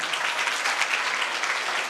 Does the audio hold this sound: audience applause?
yes